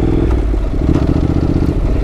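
A Honda NC750X motorcycle rumbles along a rough trail, its engine loud and close with a steady low drone and clattering from the bumpy ground.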